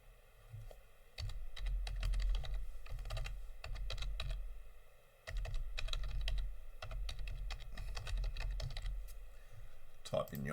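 Fingers type an email address on a computer keyboard, a steady run of close, light key clicks in quick bursts with short pauses between them.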